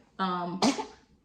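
A single sneeze, sharp and close, opening with a short voiced intake and ending in an abrupt burst.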